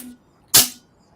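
A pneumatic air cannon used as a ride scare effect fires one sudden, loud burst of air that hits hard and trails off in under a second, with quiet before and after.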